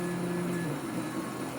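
Four 3D printers running together, giving a steady motor whine with stepper tones and fan hiss that hold evenly without a break, close by and with no talk.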